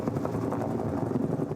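A logging helicopter working a Flagstaff forest thumps with a steady, even rotor beat, loud and unbroken throughout with no voices over it.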